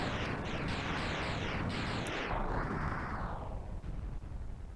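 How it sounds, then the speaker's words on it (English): A boss blowing up in the Mega Man X video game: a dense, loud roar of repeated blasts with whooshing sweeps filling the whole stretch, tailing into a sustained rumble. "And an explosion."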